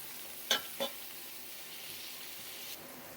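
Chopped onions and green chillies sauté in a pan for ghee rice, giving a steady close sizzle with two brief clinks of stirring near the start.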